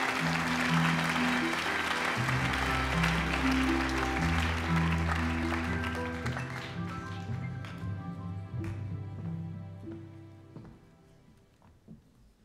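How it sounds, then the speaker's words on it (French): An audience at an awards ceremony applauds a minister with loud, dense clapping that slowly thins and fades away as piano or organ-like chords sustain underneath. "Et je vous demande de l'applaudir chaleureusement."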